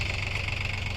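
A Farmtrac 744 FE tractor engine runs steadily in a field with a rotavator attached, giving a continuous, even mechanical drone with a low throbbing pulse and no talk.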